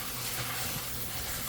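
Almost-hot tap water sprays over seeds being rinsed of salt, a steady broadband hiss and splash at a faint, even level with no speech.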